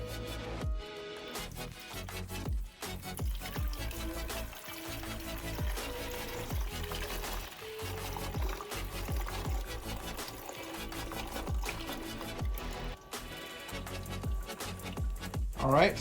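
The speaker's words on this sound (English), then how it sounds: "And then you just add your water." Water pours from a bottle into a Costway ice maker, a continuous gurgling splash with a rising pitch as the reservoir fills, while a person talks over it.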